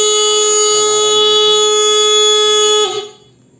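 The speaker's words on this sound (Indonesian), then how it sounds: "alarm bunyi dan muncul notifikasi di sini, peringatan ada." A loud electronic alarm from a thief detector in a swiftlet building sounds steadily with a harsh buzzing tone, then cuts off abruptly near the end, leaving near silence.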